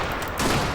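A short, loud burst of overlapping rifle fire from a WWI-era strategy video game mod crackles as a dense volley, with no voices.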